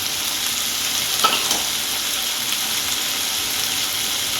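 Chilies and crushed garlic frying in a pan for a Bengali amudi fish curry, a steady loud hiss of sizzling oil with a faint clink or scrape near the middle.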